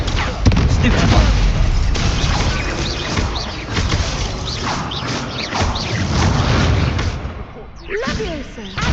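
Confringo blasting-spell explosions during a duel in Hogwarts Legacy: repeated booming blasts and crashes fill the fight, loud and close, with shouted voices throughout.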